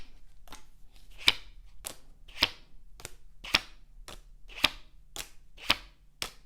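Playing cards shot one after another from a deck and caught, giving a series of about ten sharp snapping flicks at a steady, slightly uneven rhythm, close up and alone with no talk.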